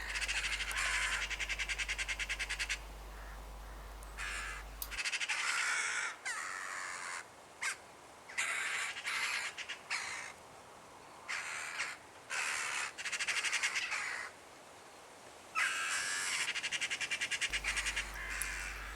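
Magpies give harsh, chattering calls in bursts across a field, loud and fairly near, with short gaps between the rattling volleys and no talking.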